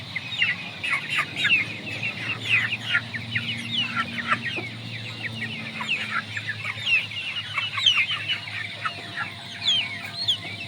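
Several Shamo and Indio Gigante chickens cluck and chatter continuously nearby, overlapping calls rising and falling with no talking.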